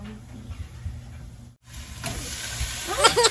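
Sizzling and hissing grows as ground beef goes into a hot soup pot, loud frying under quiet talk, with stirring and clatter near the end.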